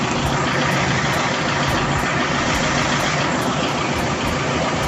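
A Toyota Corolla small-body 2E engine fitted with a Mosashi 3K carburetor idles at about 800 RPM, a loud, steady, close rumble with a regular pulsing beat and no talking.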